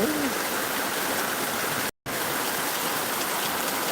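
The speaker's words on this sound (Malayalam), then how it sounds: "ഒരു രക്ഷയില്ല ഇന്നത്തെ മഴ" Heavy March rain pours down in a dense, steady hiss with no let-up apart from a brief cut in the middle, loud and close with no voices.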